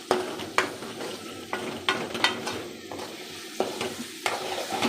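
Grated coconut fries in oil in a pan, a steady close sizzle broken by repeated scraping strokes of a utensil stirring and turning it, each stir a brief rasp over the bubbling.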